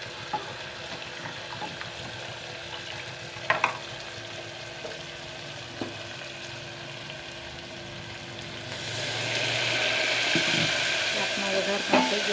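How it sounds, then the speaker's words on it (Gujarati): A tempering for a cluster bean (guvar) vegetable curry sizzles steadily in a pan with occasional light clinks, and the frying hiss swells noticeably louder and brighter in the final few seconds. "શાકનો વઘાર પણ થઈ ગયો છે."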